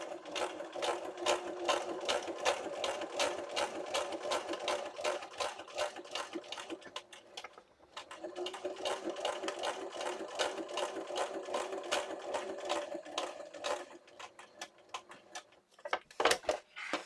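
Sewing machine stitching a paper journal booklet, a rapid rhythmic clatter of needle strokes that runs in two long bursts with a short pause between, then a few separate clicks at the end, close and fairly quiet.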